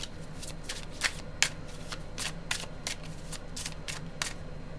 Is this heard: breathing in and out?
no